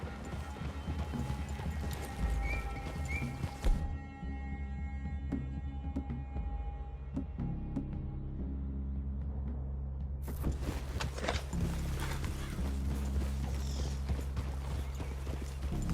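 Rhythmic hoofbeats of horses trotting in the video game Red Dead Redemption 2, steady and fairly close, with a brief quieter stretch midway before the clopping resumes, set against low ambient background.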